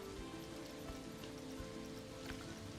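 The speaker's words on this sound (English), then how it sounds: "I just love that it's raining." Steady rain falls in the video game Planet Coaster 2, a soft, continuous patter of drops on surfaces, even and unbroken throughout, with no voices.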